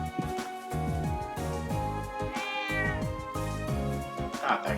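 A cat named Lulu in the game Trails of Cold Steel meows repeatedly, several loud, clear meows in quick succession over background game music, with a voice speaking briefly alongside.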